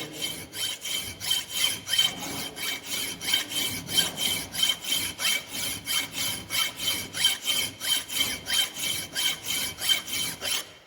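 A hand file rasps across metal in steady, even forward strokes, about two per second, close and continuous for the whole stretch with no talking.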